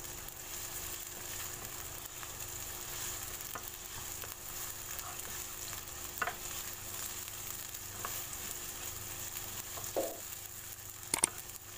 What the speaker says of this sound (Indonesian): Lalu kita masukkan bawang besar dan bawang putih juga ya. Seperti biasa kita tumis sampai benar-benar wangi.